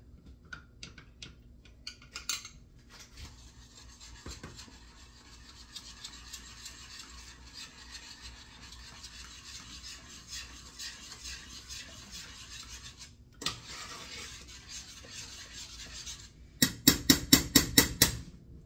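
A spoon stirs a tofu-based vegan egg foo young slurry back to liquid in a pan, with soft repeated scraping and rubbing, quiet and close, ending in a burst of rapid rhythmic clicks.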